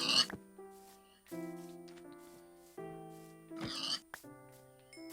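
Pigs oinking in Minecraft Earth, several short grunting snorts in separate bursts across a few seconds, moderately close, interleaved with tonal game sound effects.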